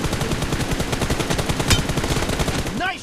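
Rapid automatic gunfire rattles in a BGMI team deathmatch, with close, loud bursts of shots in quick succession throughout and a brief higher-pitched effect near the end.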